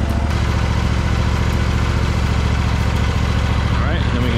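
A Barreto 30-SG stump grinder's engine runs loud and steady at a constant pitch close by, a continuous throbbing drone filling the whole stretch.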